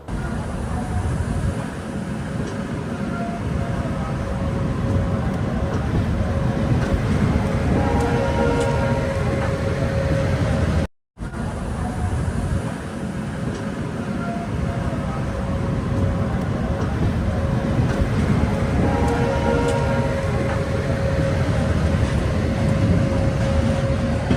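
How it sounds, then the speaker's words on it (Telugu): The Rayalaseema Express rumbles on the Tirupati route: a loud, steady, close train roar that continues almost unbroken, with one brief cut midway. "అటాచ్ చేసి ట్రైన్ అయితే స్టార్ట్ అవుతుంది."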